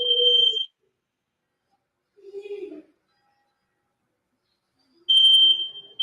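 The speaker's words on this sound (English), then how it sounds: "I think my fire alarm is going off." A home fire alarm sounds in short, loud, high electronic beeps, spaced a couple of seconds apart, with brief lower sounds in the gaps.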